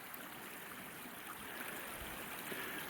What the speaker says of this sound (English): The water's actually running under it.